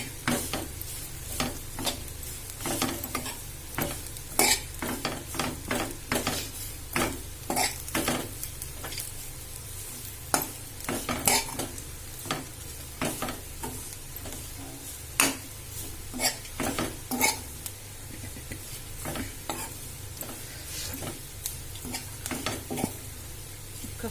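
Bitter gourd with garlic and chili stir-fries in a little oil in a pan, a steady soft sizzle punctuated by frequent sharp scraping clicks of a spoon against the pan.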